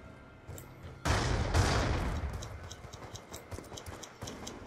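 Gunfire in the video game Black Ops 2, a burst of rapid shots and loud bangs starting suddenly, then trailing into irregular ticking pops and lighter shots, with no talk.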